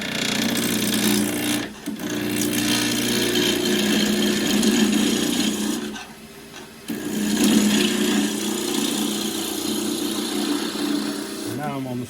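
A skew chisel cuts loquat wood on a spinning lathe with a loud, steady whirring scrape, broken by two brief pauses, as a voice talks over it.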